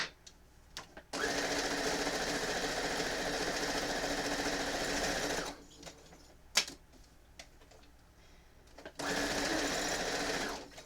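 A sewing machine stitches a quilt in long, steady runs of rapid mechanical whirring, stopping in the middle for a stretch of quiet clicks and handling noises before starting up again.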